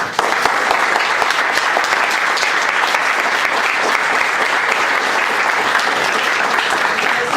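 An audience applauds two presenters at the close of an academic session, a dense, steady wash of clapping that stays loud and even from start to finish with no talk over it.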